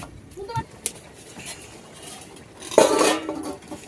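Eggplant greens being stirred in a cooking pot, with scattered utensil clinks against the metal and a louder burst of scraping and clatter toward the end, close by.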